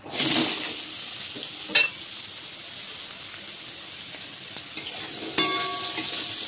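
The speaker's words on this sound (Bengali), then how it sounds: "আলুটা লাল করে ভেজে নেব" Chopped potatoes fry in hot oil with cumin seeds and a dried red chilli, a steady broadband sizzle with a few sharp clatters of a utensil against the pan, no voices.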